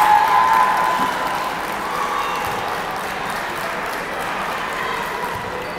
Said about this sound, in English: crowd going nuts